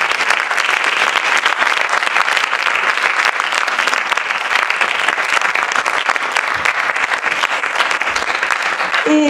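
A TED Love audience gives loud, sustained applause as Marika Verheijen and Pierre Pradervand are welcomed, a dense, even roar of many hands clapping throughout.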